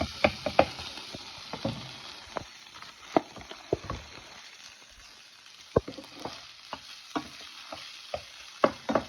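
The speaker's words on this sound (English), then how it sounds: "So you see how these potatoes are frying it really nice with this meat." Potatoes frying in a pan with taco meat give a steady, close sizzle broken by sharp crackles and pops, with occasional stirring scrapes and no talking.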